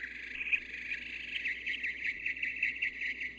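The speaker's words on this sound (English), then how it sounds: "I hear birds" A steady high chirping trill of insects or birds, constant and moderately faint like a background chorus, with no talking.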